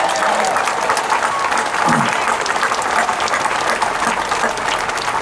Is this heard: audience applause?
yes